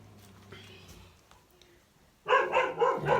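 A neighbour's dog barks in a loud, rapid burst of several yaps near the end, after a quiet stretch with faint background sounds.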